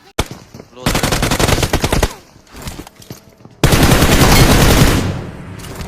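Gunfire in a PUBG Mobile battle royale match: a short opening shot, then a loud sustained burst of rapid automatic fire, a pause with scattered softer shots, and a second long dense volley close in the mix.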